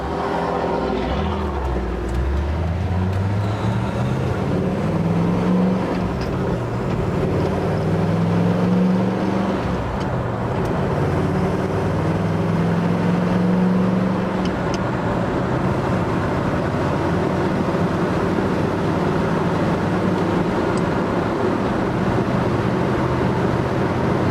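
Ford Ranchero with a TREMEC Magnum T56 six-speed manual and short-throw shifter, its engine droning steadily from inside the cab and rising and falling in pitch through the gears, with no talk.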